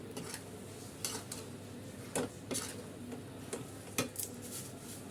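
A spoon stirring sugar syrup in a pan over a gas stove, with soft scraping and occasional clinks against the metal at an irregular pace under a low steady background hum.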